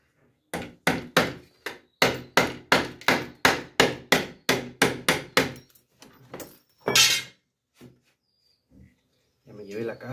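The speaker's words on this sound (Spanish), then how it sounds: "Vamos a clavarlos primero." A homemade hammer made from recycled rebar drives small nails into wood, about fifteen sharp, evenly spaced knocks in a quick steady rhythm, followed by a few scattered thumps and handling sounds; a voice speaks near the end.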